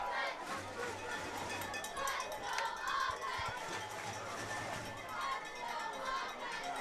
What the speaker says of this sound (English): The Hudson crowd really coming out strong tonight.